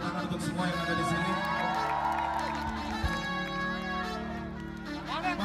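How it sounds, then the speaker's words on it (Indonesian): A large outdoor concert crowd in Sentul cheers and shouts continuously, with whoops and children's voices mixed into a dense, sustained roar and a few scattered claps during a surprise performance. "Tepuk tangan untuk semua yang ada di sini."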